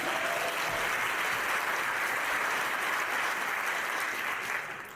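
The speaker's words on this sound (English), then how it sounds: "Round of applause for him, please" A crowd applauds at a real estate talk, a steady wash of many hands clapping at an even level that tapers off slightly at the very end.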